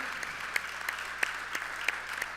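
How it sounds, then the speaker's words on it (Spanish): Applause from an audience at a Christian conference, a steady wash of clapping at moderate level with a few sharper individual claps standing out, no voices over it. "Dale un aplauso al Señor, por favor"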